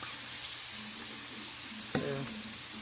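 Blackened shrimp fry in a hot pan, giving a steady close sizzle with a brief clatter of stirring partway through.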